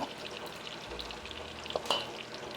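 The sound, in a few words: bacon frying in a cast iron pan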